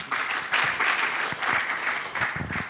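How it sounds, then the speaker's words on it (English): Conference audience applause at a mental health and addiction session, a steady moderate clapping from a roomful of people with slight surges and rhythmic pulses, heard at a middle distance. "So I can request for a clap of you again"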